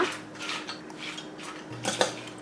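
Sprouted mung bean salad with grated carrot, cucumber, grated coconut and salt being mixed in a bowl, giving soft, quiet scrapes and light clinks of a spoon against the dish, with a faint hum underneath.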